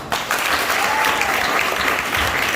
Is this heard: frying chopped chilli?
no